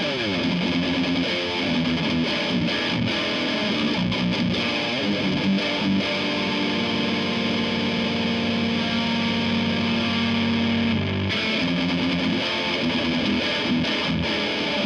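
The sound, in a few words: electric guitar through Friedman BE-OD overdrive pedal, high-end hiss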